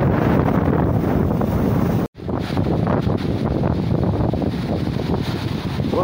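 Sea waves at a rocky Moroccan shore on a cold, windy day roll in a steady, loud wash, heavily buffeted by wind noise on the microphone, with one brief dropout partway through.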